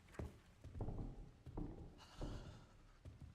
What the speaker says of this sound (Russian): Я слышу где-то шаги.